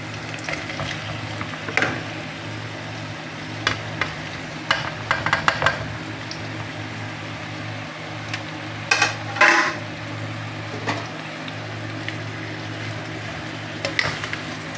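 Eggplant sizzles and fries steadily in a pan for adobong talong, with scattered utensil scrapes and clinks of stirring over the continuous crackle.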